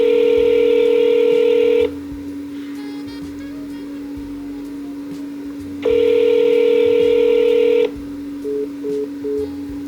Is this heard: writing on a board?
no